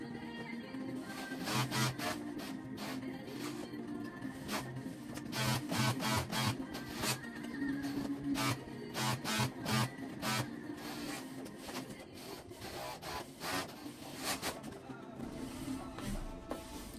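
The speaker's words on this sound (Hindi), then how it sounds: "अभी मैं और लाग कर रहा हूँ" An overlock machine stitching a kandurah dress runs in fast, rhythmic bursts of mechanical clatter that start and stop repeatedly, fairly quiet and close, with no speech over it.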